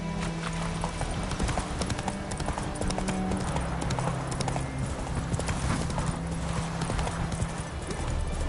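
Hooves of a galloping horse in The Witcher 3 beat a steady fast clip-clop, close and continuous, over a dense game soundscape.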